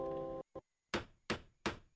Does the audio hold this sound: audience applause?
no